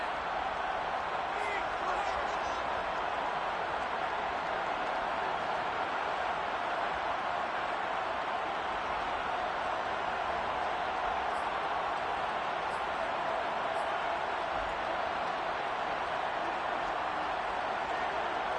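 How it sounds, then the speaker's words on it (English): A steady roar of a large stadium crowd in an American football video game during a two-point conversion fills the clip continuously at moderate level, with occasional faint higher sounds over the broad murmur. "Listen to this crowd now."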